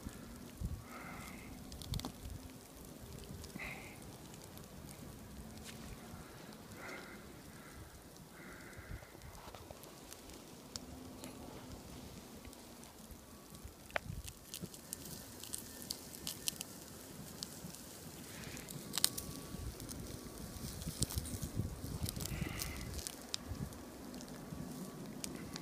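A campfire burns outdoors during a snowstorm, crackling and popping faintly and irregularly. Soft snaps and muffled thuds rise in number toward the end, with no voices.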